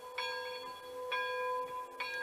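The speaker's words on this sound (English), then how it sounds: "So they'll be working the bell, and the bell's ringing." A small model locomotive bell on a D&RGW C-18 #318 model rings four times at an even, unhurried pace, each strike bright and ringing out, heard fairly quietly.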